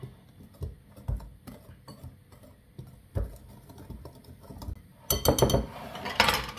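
Quick mixing of dry ingredients for almond financier batter in a bowl, with a steady run of light tapping and clinking strokes, growing busier and louder near the end, no voices.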